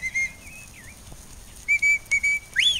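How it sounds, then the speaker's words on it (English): A shepherd blows sharp, sliding whistle commands to a border collie working sheep in Killarney, Ireland, several short piercing blasts and rising notes in quick succession, close and loud. "See the different whistles now?"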